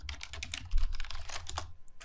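Computer keyboard keys are tapped in a quick irregular run of close, crisp clicks while entering software shortcuts, with no voices.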